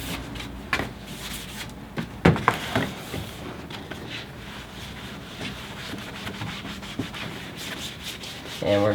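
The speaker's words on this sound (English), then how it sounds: "we're going to wipe this down really good and thoroughly" A wooden cabinet being wiped down with solvent on a rag, heard as close, uneven rubbing and scrubbing strokes with a few sharper knocks against the wood.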